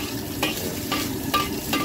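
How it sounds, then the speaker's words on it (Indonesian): Shrimp fried rice is stir-fried in a wok at a Chinese food stall, a continuous close sizzle punctuated by regular scraping strokes of the spatula every half second or so. "Nasi goreng udang."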